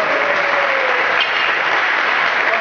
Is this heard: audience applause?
yes